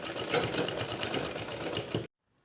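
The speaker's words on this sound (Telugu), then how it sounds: "ఇలా తీసుకుని స్టిచ్ చేసుకోవాలి" A sewing machine stitches leftover blouse cloth into a pouch, a steady fast mechanical whirring and ticking for about two seconds before stopping abruptly into silence.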